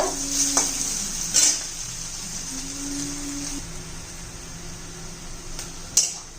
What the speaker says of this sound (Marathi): कांदा असं परतून घ्यायचा आपल्याला तांबूस कलर येईपर्यंत